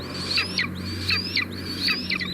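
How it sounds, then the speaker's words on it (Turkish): Small birds in a nest give repeated sharp rising chirps of alarm, three or four paired bursts in steady rhythm over a low steady hum. "Yavrular durumu tehlike olarak hissetti ve bunu bağırarak göstermeye başladı."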